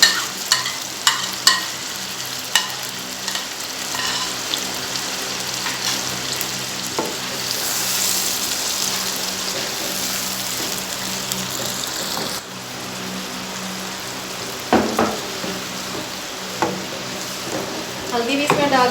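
Chicken being mixed with yogurt in a pan, a continuous loud sizzle and frying hiss with scraping stirs and a few clanks near the start and end, without talk.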